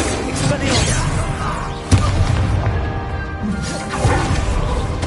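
A Bombarda spell bursts in Hogwarts Legacy, a loud crashing blast with a whooshing rush, set among other booming in-game combat noise and swells of rumble.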